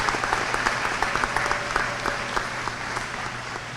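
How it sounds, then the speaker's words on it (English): Applause from a large audience at a college commencement ceremony keeps a steady, moderate roll, with scattered individual claps standing out. "that deserves a round of applause by itself"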